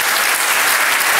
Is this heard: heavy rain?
no